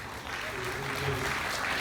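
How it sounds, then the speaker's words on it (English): A crowd at a keynote Q&A session claps steadily in a brief, even burst of applause, with a voice faintly audible underneath. "That's a round of applause for me right there"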